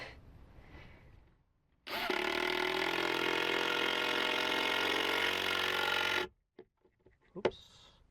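A power drill drives screws to anchor a van closet base, one long steady whine of about four seconds, loud and close, then a few brief clicks and knocks from the handled screws and wood.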